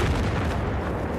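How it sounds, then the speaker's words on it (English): Mortar rounds explode in the video game Battlefield 4 as a muffled, distant-sounding low thud and rumble that fades slowly over about a second. "They got mortars."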